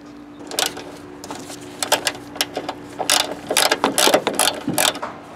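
A ratchet wrench clicks away at bracket bolts near the alternator of a 2005-2010 Honda Odyssey, with irregular bursts of rapid pawl clicks and pauses between them, close and crisp over a low steady hum.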